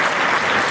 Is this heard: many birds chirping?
no